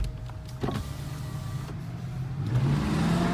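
A Volkswagen Passat with a W8 engine growls from inside the car, then revs so that its steady hum climbs in pitch and loudness toward the end, with no talking.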